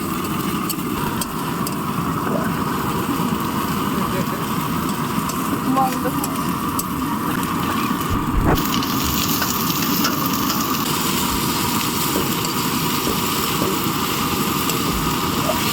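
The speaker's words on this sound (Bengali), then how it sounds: "একটু বৃষ্টি আসছে, আবার যে তুলে দিচ্ছে," A light rain on the Bidyadhari river in the Sundarbans makes a continuous broad hiss over a low rumble, holding a fairly constant level with a brief sharp burst near the middle.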